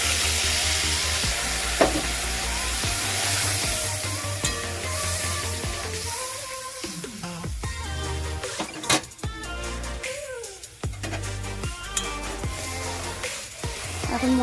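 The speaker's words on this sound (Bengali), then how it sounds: "আমি সর্ষে বাটাটা দিয়ে দিচ্ছি।" Mustard paste goes into a frying masala for tangra fish curry, giving a steady close sizzle with stirring and scraping clatter, and brief utensil knocks over the constant frying hiss.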